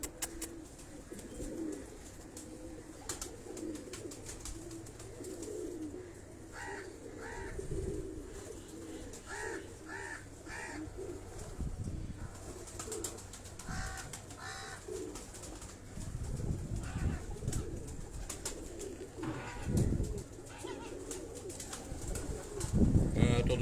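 Crossbred breeding pigeons, a mix of Nyoron and Jaunsre birds, coo in soft repeated rolls throughout, alongside faint chirps and rustling, while someone talks nearby.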